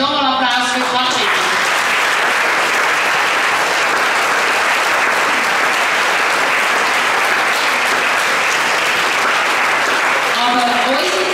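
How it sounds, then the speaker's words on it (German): A show audience applauds steadily and loudly for about eleven seconds, with a voice speaking briefly over the clapping at the start and again near the end. "Nochmal Applaus für Katrin."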